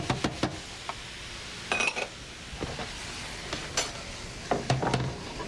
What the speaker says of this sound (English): now it's time to add our sun-dried tomatoes